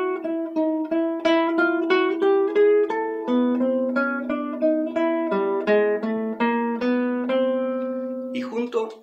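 A classical guitar plays a chromatic countermelody from Sor's Introduction and Variations on a Theme of Mozart, Op. 9, as a steady run of plucked notes sliding by semitones over a held lower line, clear and close, ending with a faint rustle.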